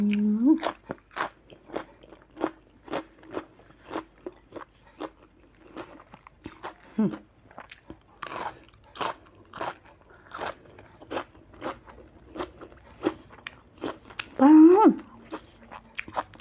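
Crunchy fresh raw vegetable bitten and chewed close up, a long series of sharp, regular crisp crunches spaced about half a second apart, with a brief murmur near the end.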